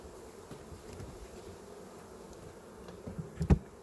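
Bees at a beehive hum faintly and steadily, with a few louder close passes near the end.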